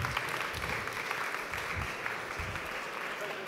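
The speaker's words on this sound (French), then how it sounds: "Veuillez les applaudir." A conference audience at a retail week round table applauds panelists called to the stage, the clapping steady and moderately distant in a large room.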